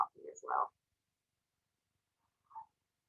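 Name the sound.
cat meowing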